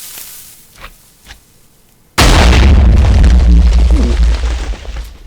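A Minecraft TNT cannon firing: a few faint clicks, then a sudden loud, sustained boom of the TNT exploding that rumbles on for several seconds before easing off.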